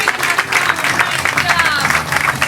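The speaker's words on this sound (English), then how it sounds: "a big round of applause for everybody who's come out and you've seen tonight" An audience at Flappers Comedy Club in Burbank, California claps steadily in a dense, sustained wash from a comedy show's main room, with a little crowd chatter mixed in.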